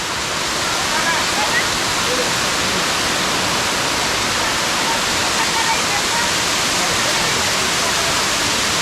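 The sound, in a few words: waterfall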